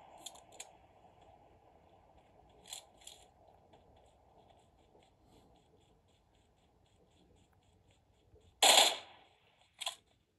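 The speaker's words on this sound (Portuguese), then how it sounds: "Tá rolando tiroteio por aqui" Sparse, distant shots in PUBG Mobile: a few short bursts early on, then two louder, sharper gunshots near the end, over a quiet ambient hum.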